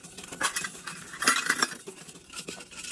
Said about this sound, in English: You gotta stir that for 2 minutes.